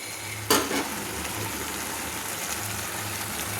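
Prawns with spring onion stalks fry in a pan, a continuous close sizzle with a sharp burst of crackling near the start as something hits the hot oil, then steady hissing.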